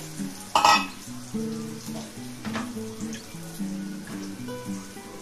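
Taro stolons fry in a pan while being stirred, giving a steady sizzle with scraping stirs, close and fairly loud, with a brief clatter near the start.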